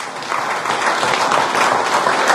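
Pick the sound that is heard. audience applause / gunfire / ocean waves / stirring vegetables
audience applause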